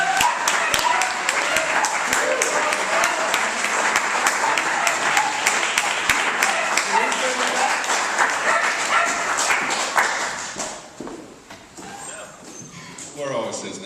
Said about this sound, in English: give a huge round of applause to the people who are running for office here in